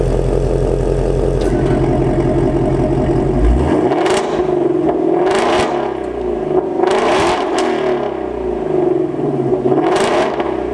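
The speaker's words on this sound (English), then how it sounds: "But once you take out this unique engine that revs up a lot higher, sounds freaking awesome." The 5.2-litre Voodoo V8 of a Ford Mustang Shelby GT350 idles with a deep, lumpy burble, then blips in a series of sharp, loud revs that rise and fall repeatedly, close up and with no talking.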